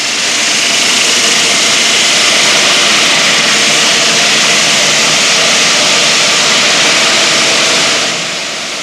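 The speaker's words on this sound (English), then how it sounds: "a horizontal saw cuts each slab in turn" A horizontal saw cutting granite slabs in a stone-processing line gives a loud, steady broadband roar that holds constant for most of the stretch before easing slightly at the end, with no voices.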